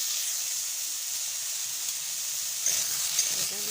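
Mango pieces fry with salt and turmeric in a pan for chutney, making a steady, close, hissing sizzle with a faint clink of stirring near the end.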